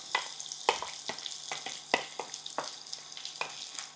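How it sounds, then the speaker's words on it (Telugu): Chopped onion sizzles in hot tempering oil with cumin seeds, curry leaves and dried red chilli for a flat bean curry, giving a steady crackling hiss punctuated by sharp pops and stirring clacks at close range, with no voices. "పోపు పర్ఫెక్ట్గా వేగిన తర్వాత ఉల్లిగడ్డ వేసేస్తున్నాం."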